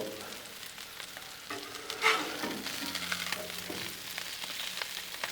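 Smashed potatoes sizzle and fry on a Blackstone griddle just after being flipped, a steady close crackle with a brief scrape of the spatula, no voices.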